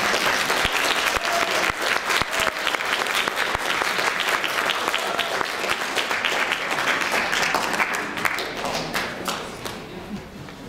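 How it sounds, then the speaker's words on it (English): Sustained, dense audience applause fills a band Christmas concert hall, loud and steady with scattered sharper claps, then gradually tapering toward the end. "did I mention they live for applause?"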